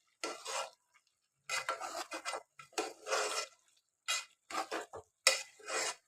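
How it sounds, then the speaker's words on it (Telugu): Chicken masala with tomatoes and coriander is mixed in a pan, heard as short, fairly quiet bursts of wet scraping and stirring separated by clear pauses. "ఇప్పుడు ఒక్కసారి మనం అంతా మంచిగా మిక్స్ చేసుకుందాము."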